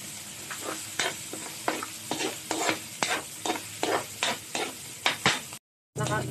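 Onions sautéing in a pan, stirred with repeated scraping strokes over a constant sizzle, one after another in an uneven rhythm. A short gap comes near the end.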